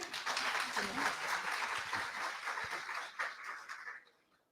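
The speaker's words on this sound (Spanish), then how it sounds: "Muy bien, entonces con un bonito aplauso para Ana García." An audience at a family therapy and disability session gives a warm round of applause for speaker Ana García as she takes the podium, dense and sustained clapping from many hands that fades out near the end, with a voice briefly underneath.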